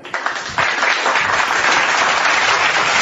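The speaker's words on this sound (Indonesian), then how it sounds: "Tepuk tangan untuk itu." A debate audience breaks into applause, starting with a few scattered claps and then swelling into dense, loud clapping that carries on steadily to the end, with no speech over it.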